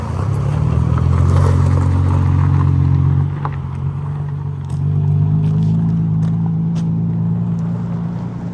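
A Nissan 350Z idles and rumbles close by as it is driven a short way and parked inside a used car shop, its low engine drone steady, dipping briefly midway before picking back up, with light clatter above.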